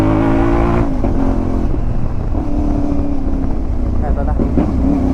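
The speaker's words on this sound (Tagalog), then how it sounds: "Gusto ko try si MT-450 natin kung paano yung feeling niya i-drive sa off-road." CFMoto 450MT motorcycle, Nebula Black 2026, ridden off-road on back roads: a steady, close engine drone with shifting pitch as it accelerates, under a rider's voice and wind rumble.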